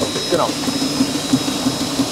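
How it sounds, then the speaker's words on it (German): A gear shaping machine slots internal gear teeth, giving a steady mechanical hum with soft, regular strokes about every third of a second, and a brief spoken word near the start. "hier seht ihr jetzt nämlich mal gerade, wie die Innenverzahnung reingestoßen wird"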